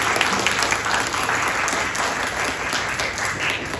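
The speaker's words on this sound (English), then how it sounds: "Y'all applauded before I got a chance to say" A crowd applauds steadily, a dense wash of many hands clapping at once, loud and close, holding evenly for a few seconds.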